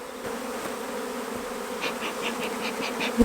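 Honey bees buzz steadily around an opened hive's bottom brood box during a queen-rearing inspection, a continuous close hum with brief louder passes of individual bees near the end.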